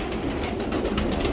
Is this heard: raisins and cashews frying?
no